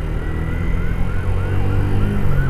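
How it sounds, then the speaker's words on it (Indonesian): An ambulance's wailing siren rises and falls repeatedly over a loud, steady engine rumble on a road between Malang and Kepanjen, fairly close and continuous. "Ada ambulan."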